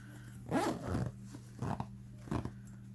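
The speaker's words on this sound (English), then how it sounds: "these side zippers are not the easiest, but I mean, they work fine" The side-pocket zipper of a Vera Bradley Utility cotton backpack is pulled in about four quick, scratchy strokes, close up and with no voices.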